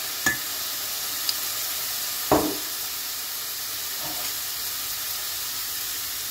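Soy sauce hitting a hot frying pan of chicken hearts and button mushrooms gives a steady, even sizzle with a few sharp spits and crackles, close and continuous with no talking.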